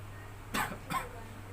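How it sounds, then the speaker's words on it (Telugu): Two short, close coughs in quick succession over a quiet background hum. "దగ్గు"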